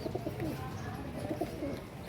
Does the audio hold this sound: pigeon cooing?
yes